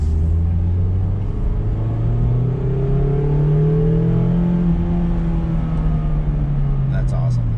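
A 2021 Mazda MX-5 Miata engine revs up and rises in pitch with a deep, throaty exhaust rumble, then holds steady as it drones along close by.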